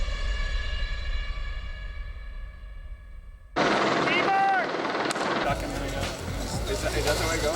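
Helicopter rotor thumps steadily at first, then a sudden burst of loud noise breaks in and continues as a busy mix, with someone talking throughout.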